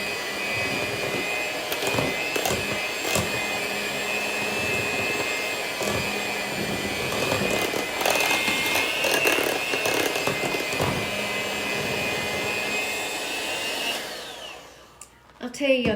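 Electric hand mixer running steadily in a home kitchen during Southern fruit cocktail cake preparation, a continuous motor whir with slight fluctuations that cuts off near the end.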